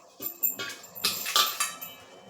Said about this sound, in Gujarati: અને ઢાંકણ બંધ કરી લેશું.